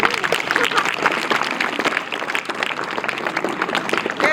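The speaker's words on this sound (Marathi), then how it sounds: "टाळ्या वाजवा या दोघांसाठी" An audience at a school lecture event claps steadily, a dense crowd applause that holds at an even level, with voices mixed in beneath the clapping.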